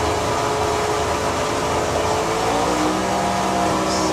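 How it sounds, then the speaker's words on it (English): John's original stick-shift gasser drag car from a drag racing meet roars with a steady, loud, broadband engine rumble. It runs continuously for the whole span with no talk over it. "Just the special noise of John's car"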